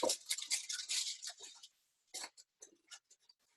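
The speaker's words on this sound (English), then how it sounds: "you just pull out some parchment paper" Parchment paper pulled from a roll in a home kitchen while baking cookies, a quick crinkly tearing rustle followed by a few short scratchy rustles, close and alone.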